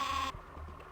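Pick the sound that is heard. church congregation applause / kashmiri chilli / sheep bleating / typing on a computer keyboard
sheep bleating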